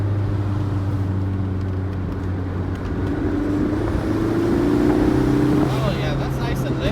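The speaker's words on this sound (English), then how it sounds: "I can hear the turbo spooling" Toyota MR2 AW11 with a swapped-in 3SGTE turbo engine pulling under light throttle, a steady droning engine tone rising gradually as the turbo spools, heard from inside the cabin with a rising whine near the end.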